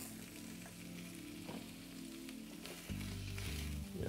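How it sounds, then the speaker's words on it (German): Goose breasts sizzling as they brown slowly in a pan, a steady close frying hiss with crackle that swells louder near the end, occasional stirring clinks, no voices. "Jetzt lassen wir das schon langsam anbraten."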